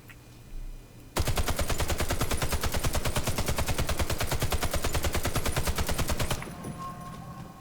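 A ZX84 machine gun fires in the shooter game Warface at long range: one sustained, rapid burst of evenly spaced loud shots lasts about five seconds, then cuts off into quiet game ambience.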